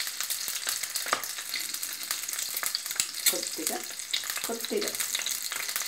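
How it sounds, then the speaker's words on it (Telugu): Food frying in a pan with turmeric, a continuous close crackling sizzle with stirring noises throughout, while someone briefly speaks over it. "ఇప్పుడు వీటిని వేగనిద్దాం"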